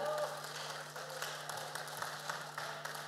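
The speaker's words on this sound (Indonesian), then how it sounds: "Mari kita beri tepuk tangan yang meriah." Applause ripples through the audience at a stock exchange listing ceremony in Indonesia, a moderate, fairly even clapping that runs a few seconds alongside some speech.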